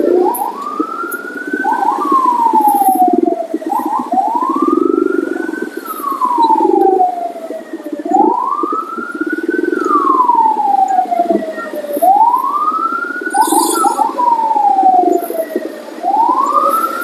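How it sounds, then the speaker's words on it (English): An ambulance siren wails through a jammed Jakarta street, its tone sweeping up and down in a steady repeating cycle. The siren is loud and close, over a constant rumble of traffic and engines. "Poor ambulance. It's hard for them to pass because of the traffic."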